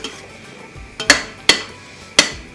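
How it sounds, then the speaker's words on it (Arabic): Mushrooms stirred in butter in a pan for mushroom soup, with a spoon giving three or four sharp metallic clinks against the pan over a faint background sizzle, close by. "وهلا بننزل الفطر"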